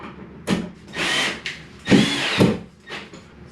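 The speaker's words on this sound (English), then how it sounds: "Really drive those screws in good." A power drill with its clutch removed drives screws into a DIY TV wall mount, giving several close, loud whirring bursts of varying length separated by short pauses.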